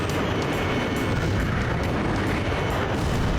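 A heavy missile impact from an enemy submarine in the flight combat game Ace Combat 5, a loud continuous rumbling roar of explosion and engine noise sustained throughout, with no voices.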